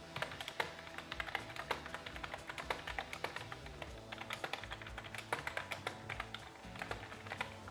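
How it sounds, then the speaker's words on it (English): Rapid, uneven clicking of keys on a salvaged computer keyboard being tested, a close, quiet flurry of typing with short pauses between bursts. "We can do a quick typing text test."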